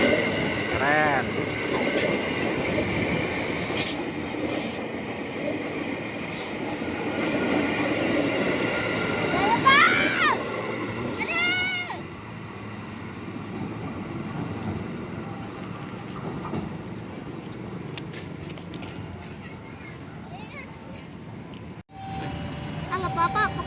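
A CC206 diesel locomotive running light without carriages passes close by, a loud sustained engine and rail rumble with squealing wheels and clatter fading away, with voices talking over it.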